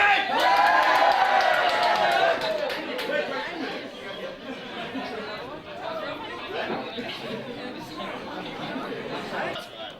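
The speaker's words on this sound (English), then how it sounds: "I want you all to go wild and crazy and make a lot of noise and clap and cheer" A birthday party crowd indoors cheers, whoops, claps and chatters loudly all at once, the noise peaking at the start and then settling into a steady lively din of voices.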